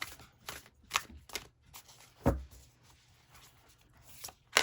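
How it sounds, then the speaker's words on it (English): A deck of playing cards is cut and riffled through three quick shuffles, each a short crisp burst of flicking cards, with a heavier thump from the deck being squared or knocked on the table, all close and fairly quiet. "let's do 3 shuffles"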